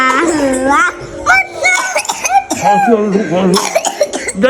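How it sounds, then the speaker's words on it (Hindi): A child coughs several times in quick bursts, mixed with whiny vocal sounds, fairly close and loud. "खांसी आ रही है, खांसी आ रही है इसको"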